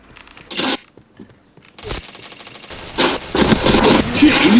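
Video game gunfire in bursts, with rapid automatic shots, gaps between volleys, and a heavier cluster of shots and effects toward the end.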